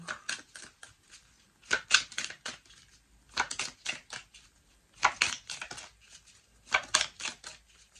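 Oracle cards are shuffled by hand in short rhythmic bursts of dry riffling clicks, four clustered flurries separated by quiet pauses, close and fairly soft.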